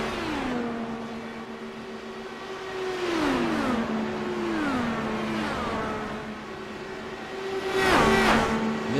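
IndyCar race cars in a racing video game circle the track, high-pitched engine whines rising and falling as cars pass by one after another, with a louder pass near the end.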